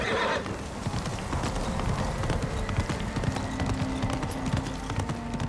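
Horse hooves clip-clop steadily at a trot in the Ghost of Tsushima video game, close and clear over quiet game ambience, with a brief whinny and no talking.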